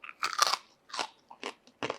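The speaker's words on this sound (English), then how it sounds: "You can just bite through it with ease." Crispy roasted pork belly crackling from a charcoal barbecue bitten and chewed up close, giving about five sharp, dry crunches in an uneven rhythm with short silences between, no talking.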